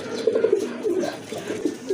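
A pair of Rajgolla pigeons, the cock fully red and the hen grey, coo close by in repeated low throaty phrases through the whole stretch, with no voices over them.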